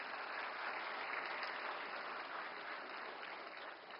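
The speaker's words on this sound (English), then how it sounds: "And a round of applause for all the Disha team members." Sustained applause from a large audience at a national legal-empowerment consultation in India, a steady dense wash of clapping that holds evenly throughout, with no voices.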